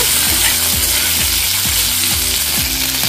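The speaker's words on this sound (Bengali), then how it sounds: "দিয়ে হালকা ফ্রাই করে নেব" Asafoetida (hing) lightly frying in hot oil, a loud, continuous close sizzle with a faint repeating mechanical rattle underneath.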